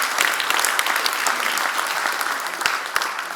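Warm applause at a Democratic Party central committee meeting, a hall full of people clapping steadily. Individual sharp claps stand out against the dense background.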